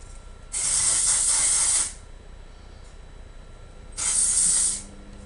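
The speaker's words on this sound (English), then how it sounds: "Now going back with the dry shampoo. Spray it again at the roots." Two bursts of aerosol dry shampoo hiss at the hair roots, each lasting over a second, close and loud, with a pause between them and no speech.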